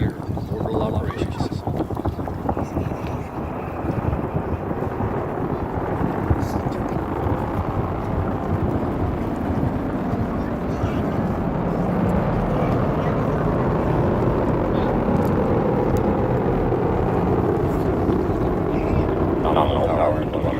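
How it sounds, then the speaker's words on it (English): SpaceX Falcon 9 rocket lifting off from Launch Complex 39A in Florida on the CRS-29 mission, a sustained broadband rumbling roar that holds steady and loud throughout, with wind buffeting on the microphone. "Falcon 9 has successfully lifted off from historic Launch Complex 39A in Florida."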